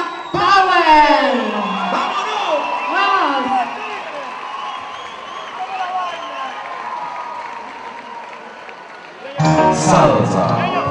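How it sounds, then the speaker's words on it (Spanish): Audience cheering, whooping and applause for salsa dancers, loud at the start and swelling again near the end, with a host's voice speaking over the crowd through the middle. "fuerte el aplauso para Salsa Power"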